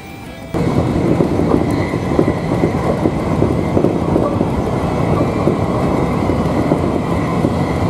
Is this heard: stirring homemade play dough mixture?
no